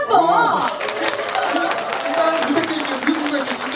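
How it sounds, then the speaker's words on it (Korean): Audience applause at a live stage performance by a trot singer, with dense, steady clapping and crowd noise filling the whole stretch at a fairly loud, even level. "여러분 박수 한 번"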